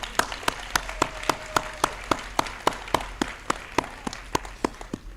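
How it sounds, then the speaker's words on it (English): Audience at a school of the arts graduation claps for the graduates' parents, with sharp, fairly regular claps that sound like a few nearby hands rather than a dense crowd, standing out clearly over quiet room noise. "round of applause for them"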